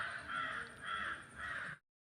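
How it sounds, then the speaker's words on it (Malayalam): Crows caw outdoors in sunshine after days of rain: three drawn-out caws in an even rhythm, moderately distant and fairly faint, with no other sound before the clip cuts to silence. "ഞാൻ പറഞ്ഞുകൊണ്ടിരിക്കുന്ന സമയത്ത് തന്നെ കാക്കേൻ്റെ കരച്ചിലായിരിക്കും അതുകൊണ്ട് നിങ്ങൾ കൂടുതൽ കേൾക്കുന്നത്"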